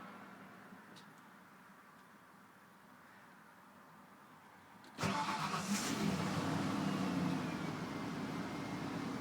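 A 1992 Ford F150 pickup engine, already warm, cranks and catches about halfway through after quiet background, then settles into a steady, moderately loud idle.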